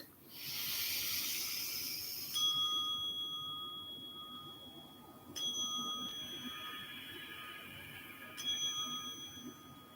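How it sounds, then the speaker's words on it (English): Three meditation bells ring out one after another, each a clear sustained ding spaced a few seconds apart and fading slowly over a soft hiss of room noise. "Three bells indicating the close of our practice."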